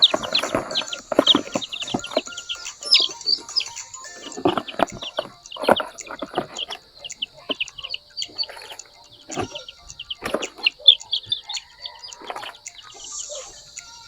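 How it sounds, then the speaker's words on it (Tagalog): Young chicks in a scratch pen chirp, cluck and flap their wings in a busy, continuous flutter of small bird sounds throughout. "ilalagay na po natin ang mga sisiw dyan po sa ating scratch pen na i-repair"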